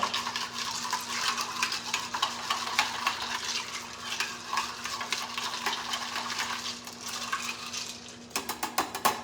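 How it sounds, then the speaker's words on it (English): A cocktail with tonic water stirred in a glass, steady close swirling and light clinking of ice against the glass, with a sharper clatter at the very end. "Now, instead of shaking, we're going to stir."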